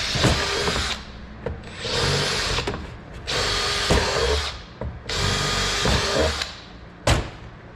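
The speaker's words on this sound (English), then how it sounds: "So we're just going to drill these bottom 3 ones out" A power drill whines in several loud bursts of a few seconds each, drilling out bolts to a quarter inch on a Yamaha YFZ450 intake, biting into metal, with short pauses between runs.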